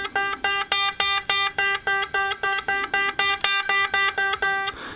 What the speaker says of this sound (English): But if you have a heavy hand, it bends it out of pitch.